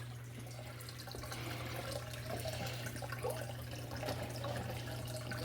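Water from a fish tank siphons through a hose with a soft, steady gurgling trickle and occasional bubbly slurps, faint over a constant low hum.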